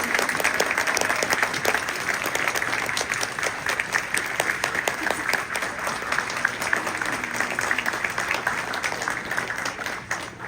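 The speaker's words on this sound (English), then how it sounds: "Give them a big round of applause." Audience at the closing ceremony of Ponyville Ciderfest applauding the festival staff and volunteers, a dense, steady wash of many hands clapping that holds loud for the full stretch, with faint crowd murmur beneath.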